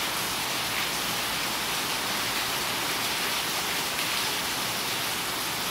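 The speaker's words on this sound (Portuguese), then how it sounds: "A chuva tá muito forte." Heavy rain pouring down steadily, a dense, continuous roar of hissing water that fills the whole clip with no voices or breaks.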